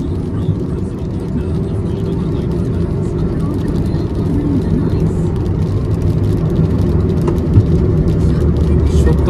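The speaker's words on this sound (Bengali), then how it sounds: "70-80তে গাড়ি চলছে, এই রাস্তায় বোঝাই যাচ্ছে না।" A car cruising at about 70–80 km/h along the Kalyani Expressway near Kolkata in the rain, giving a steady, loud road and engine rumble with constant wet tyre hiss and no break for the whole stretch.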